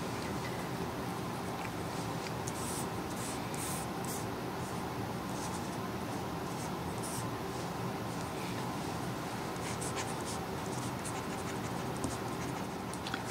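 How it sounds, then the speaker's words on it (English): Plastic nib of a Samsung S Pen writing on a tablet screen, a steady close scratching and rubbing of strokes that continues for several seconds with no voices. "I do feel like I write nicer with this plastic tip."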